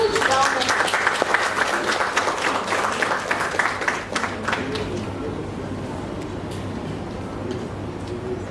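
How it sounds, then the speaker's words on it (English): A seated audience at an English language teachers' association chapter event claps steadily to welcome a speaker, dense applause for about four seconds before thinning into scattered claps and murmuring chatter. "Let us welcome her with a huge round of applause."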